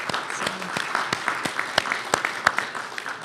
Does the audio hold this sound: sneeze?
no